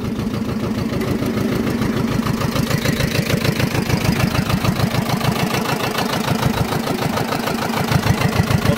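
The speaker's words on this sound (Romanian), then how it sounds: "Motor în două pistoane." A two-piston engine on a used piece of farm machinery idles with a steady, rapid thumping beat, loud and close throughout, with no speech over it.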